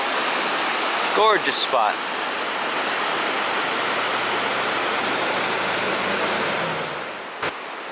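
Rapids on the Puyallup River make a steady, full rushing roar that runs throughout, with a brief remark spoken over it early on and a small knock near the end.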